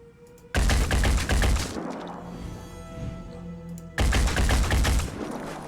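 Two loud, close bursts of rapid gunfire shooting through a banner in Phoenix Point, separated by a lingering echoing tail and a quieter rumbling pause.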